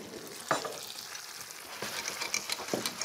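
Pork teriyaki skewers with vegetables sizzle steadily in a frying pan while a utensil scrapes and stirs a few times, close and fairly quiet, with no voices.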